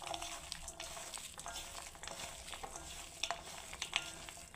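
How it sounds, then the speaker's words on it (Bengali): Grated pointed gourd (potol) being kneaded by hand in a bowl, a steady soft wet squishing and stirring with small clicks, close and fairly quiet, no talking. "এবার আমি বন্ধুরা মাখতে থাকবো"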